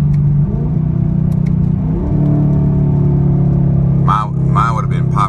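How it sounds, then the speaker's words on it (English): A straight-piped sixth-generation Camaro SS engine rumbles loudly from inside the car, its pitch climbing and sweeping as revs rise on a downshift, with voices talking over the end. "Downshift from, let's say, from 5, his RPM just revs real high."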